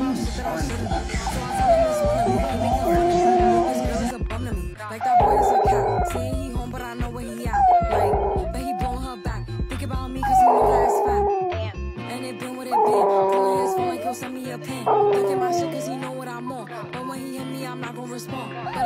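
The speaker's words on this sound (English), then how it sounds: "The sounds my puppy makes whenever I put on music." Chihuahua puppy howling and yipping along to music: a string of rising, wavering howls and short yips comes in repeated bursts over a musical backing, close and clear.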